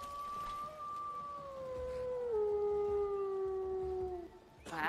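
A dog in the video game Skyrim howls in one long, drawn-out wail that slowly falls in pitch, fairly clear over quiet game background, followed by a brief sharp noise at the end.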